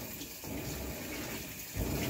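Water rushes steadily into a Maytag glass-top top-loading washing machine without an agitator, filling around a light load of flannel; a continuous, close gushing hiss that swells slightly toward the end.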